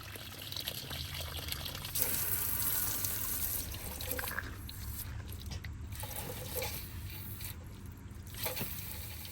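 Water flowing out of a household supply line with a faulty one-way valve, a steady trickling, pouring hiss that swells early on and then settles into a softer continuous flow, no speech.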